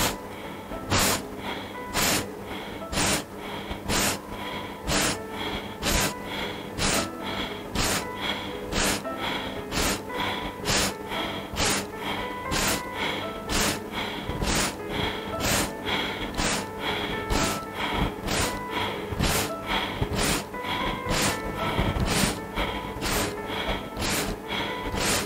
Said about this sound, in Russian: Мы делаем резкий вдох через нос, как будто мы шмыгаем.